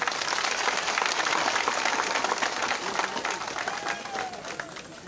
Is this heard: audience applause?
yes